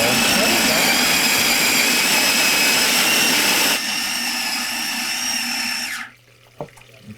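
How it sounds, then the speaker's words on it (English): A food processor minces chicken breast with a loud, close, steady whirring buzz that runs for about six seconds, changes pitch partway through and then stops, leaving a few faint clicks. "use the food processor to smash it"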